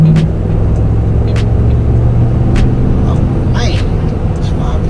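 A car engine hums steadily from inside the cabin, with road rumble filling the background and a few brief clicks and knocks on top.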